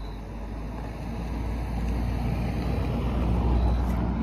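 Steady evening street traffic in Alanya, a broad low rumble of passing cars and trucks that swells gradually louder, with a faint voice beneath.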